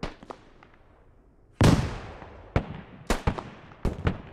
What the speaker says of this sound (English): that's a frag round